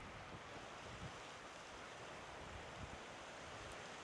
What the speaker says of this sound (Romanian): Se aude o apă